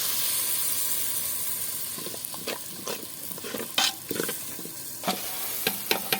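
Onions and chili fry in a pan with a steady hiss and sizzle, broken by scraping stirs and a few sharp crackles, close up and without any voices.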